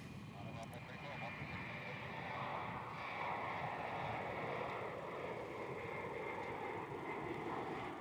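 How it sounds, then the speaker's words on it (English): A Qantas Embraer E190 jet roars steadily as it departs Melbourne Airport, a broad continuous engine rumble heard from a distance while a person talks over it. "Qantas E190 off to Darwin."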